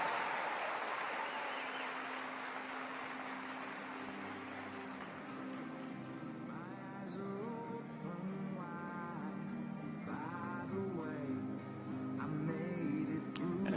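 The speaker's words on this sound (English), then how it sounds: "I want you to give them the biggest round of applause" An arena audience at a world jump rope championship applauds to honour athletes, broad sustained clapping that fades gradually while music comes in and grows beneath it.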